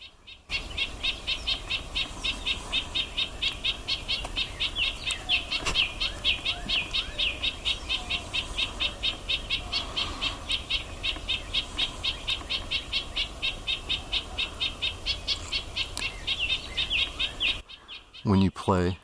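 A red-breasted nuthatch gives its nasal, toy-horn-like call again and again in a steady rapid series, close and clear for about seventeen seconds, with faint background birds.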